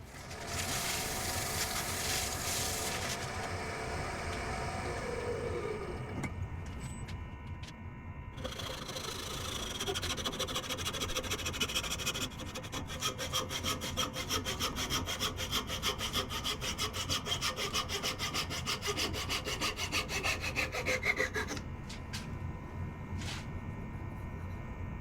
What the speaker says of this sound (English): Take a little bit of my beeswax walnut oil paste to give a finish